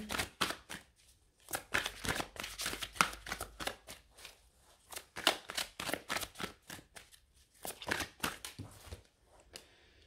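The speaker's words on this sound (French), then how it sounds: "je vais juste aller sortir une carte dominante pour le tirage sentimental" A tarot card is drawn from a deck, with bursts of quick shuffling and card flicking, close and crisp, in irregular clusters separated by short pauses.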